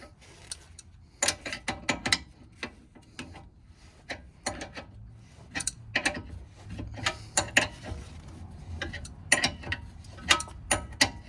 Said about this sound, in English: Get our wrench.